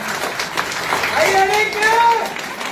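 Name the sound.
audience clapping for the speaker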